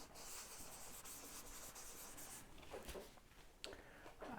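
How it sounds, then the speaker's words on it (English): A tissue rubbed over pencil shading on paper while blending clouds, a faint soft steady scrubbing close by that thins out near the end, with a few light scuffs. "I'm going to just use the tip of the tissue just to move some of that around"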